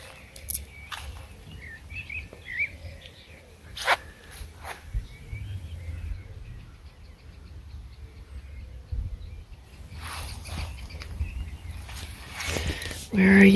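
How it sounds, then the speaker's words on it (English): Faint bird chirps and insect buzzing come from an outdoor scene at Leon Sinks Geological Area, mixed with rustling and a few sharp scraping noises close by. "Listening to the birds and the insects."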